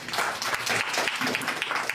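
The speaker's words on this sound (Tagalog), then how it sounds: "palakpak nga po muli sa Diyos" Congregation applauding during a church service, a brief patter of many hands clapping at moderate distance.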